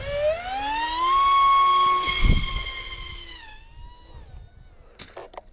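A 3D printed model airplane's electric motor runs with a loud, rising whine that holds steady, then drops and fades after about three seconds, with a few brief knocks near the end.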